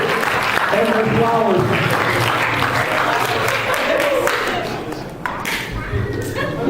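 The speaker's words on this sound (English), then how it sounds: "How about a big round of applause" A comedy club audience at a live stand-up show gives a round of applause, dense steady clapping with people talking over it, easing slightly toward the end.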